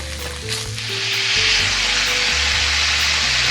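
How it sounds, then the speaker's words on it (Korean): Bacon frying in a pan, a loud, close, steady sizzle that swells and holds for the whole stretch, with a hum underneath and no talking. "베이컨을 먼저 볶습니다"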